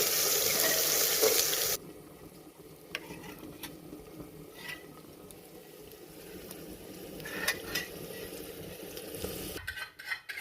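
Onions sizzle and fry in hot oil in a village-style kitchen, a steady crackling hiss with occasional stirring scrapes and clinks, close by and without talk.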